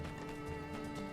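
Horse hooves clip-clopping in the video game My Time at Sandrock, a steady, soft repeated patter under a dense, continuous game music and ambience bed.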